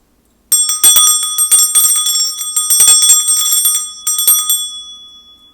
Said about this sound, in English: I'm going to start by clearing the energy with my bell.